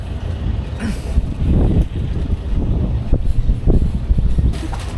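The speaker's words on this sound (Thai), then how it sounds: "ลมเพียบ" Strong wind roars across the microphone while riding a vehicle along a rough trail through tropical rainforest. Low, rumbling gusts surge and pulse continuously, with a heavier burst near the middle.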